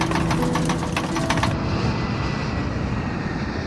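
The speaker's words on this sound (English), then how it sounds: "The alert is so serious that it actually shakes the pilot's control columns. Combined with a loud rattling, it's impossible to ignore." Cockpit stall-warning stick shaker of a Boeing 757 airliner rattles loudly over a dense, continuous engine roar, with the sharp rattling layer cutting off partway through while the roar carries on.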